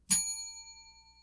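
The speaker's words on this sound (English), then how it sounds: "I will employ what I have called the inappropriate bell." A single bright strike of a small bell rings out sharply, then its clear metallic overtones fade slowly over about a second, heard alone.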